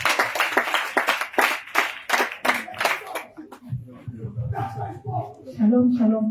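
A church congregation at a deliverance service claps rapidly and rhythmically for a few seconds, then the clapping fades out as voices and a child take over.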